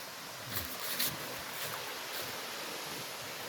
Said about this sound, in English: As you can see, she's not huge, but still, she's a waterfall.